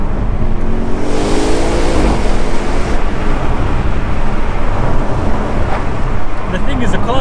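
An Audi RS6 Performance (605 PS) engine roars loudly and pulls hard, its pitch climbing as it accelerates, with a rough, continuous rumble throughout.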